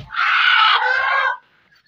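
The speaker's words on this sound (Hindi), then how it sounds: "एक और मुर्गी जो है ना, वो कुड़क हो गई है" A broody hen in an Aseel chicken flock gives one loud, harsh, drawn-out cluck lasting just over a second, close up and alone, then falls quiet.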